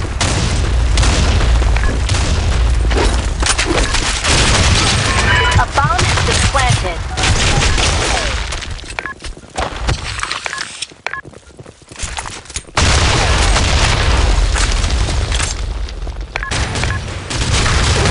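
Bomb blast and rapid gunfire in the online shooter BlackShot, with loud booms and dense volleys of shots, a brief quieter lull partway through and then more bursts of fire.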